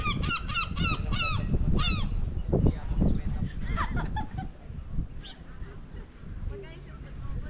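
A flock of geese and ducks being fed honk and quack in a noisy cluster at Shakespear Regional Park, Auckland, loudest at first then scattered calls over murmuring voices in the background.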